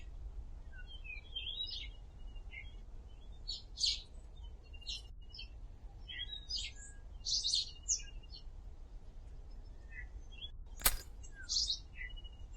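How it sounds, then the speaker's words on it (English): A repetitive, low-quality looped recording of bird chirping in a video game, with sharp, shrill tweets at irregular intervals over a low background rumble. "if you're gonna have a bird just on repeat, make sure it's a good quality recording"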